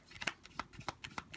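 Tarot cards being shuffled by hand during a card reading, a run of quick, papery riffling snaps in an even rhythm, close and fairly soft, with no talking.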